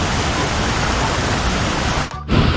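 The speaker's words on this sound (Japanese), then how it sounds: "この辺も緩やかなこう滝のエリアですね" Gentle cascading waterfall at a swimming area near Luang Prabang, Laos, a loud, close, steady rush of falling water that briefly dips near the end.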